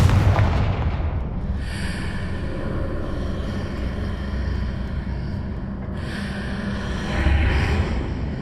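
Confringo fire spell blasting in Hogwarts Legacy, a loud booming burst that rolls into a long, rumbling roar of fire and debris, swelling again with a second heavy burst toward the end.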